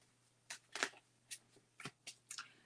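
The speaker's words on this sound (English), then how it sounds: "So, I'm going to keep shuffling here." A deck of cards is shuffled in several quick, crisp riffling bursts, separated by short pauses, close and fairly quiet over a low background hum.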